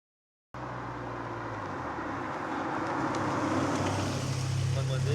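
A 1990s Honda Civic EK4 hatchback engine runs steadily nearby, starting abruptly and building slightly, with a continuous mechanical hum and no talking.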